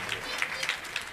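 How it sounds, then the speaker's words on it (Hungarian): Brief audience applause for young child painters on a children's TV show, a short burst of scattered clapping, fairly close and moderately loud. "Nagy tapsot kérünk a kis festőművészeinek."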